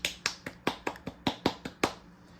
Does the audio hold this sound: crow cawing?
no